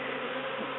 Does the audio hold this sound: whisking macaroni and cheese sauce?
no